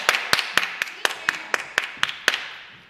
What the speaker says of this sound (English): We don't have that many people in here, but let's give them applause.